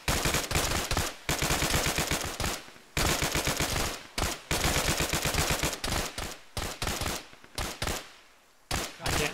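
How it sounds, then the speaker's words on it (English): Close, loud sustained machine-gun bursts crackle as covering fire in an ArmA ShackTac squad game, rapid rhythmic volleys broken by short pauses, with no talking over them. "One covering fire, let's go."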